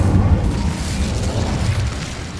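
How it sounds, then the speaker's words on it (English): A fiery spell explosion in a fantasy wizarding video game, heard as a loud, sustained low boom and rumble that stays dense and forceful throughout with no talk over it. "Incendio!"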